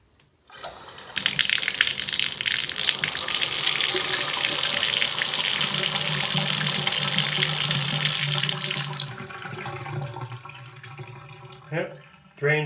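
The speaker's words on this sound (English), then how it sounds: "Yep, drains beautifully." Water rushes loudly from a kitchen tap into a sink basin and drains away after unclogging, a strong close gush for several seconds that cuts off into softer trickles, gurgles and clanks, with a voice briefly at the end.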